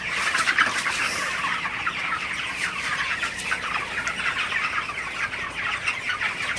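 Broiler chickens on a farm clucking in a dense, continuous chorus of overlapping calls, close and steady throughout, with no talking.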